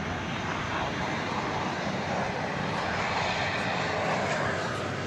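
Turkish Airlines Boeing 787-9 Dreamliner, flight 192 bound for Istanbul at Dallas Fort Worth, producing a continuous loud jet engine roar that stays strong and steady throughout.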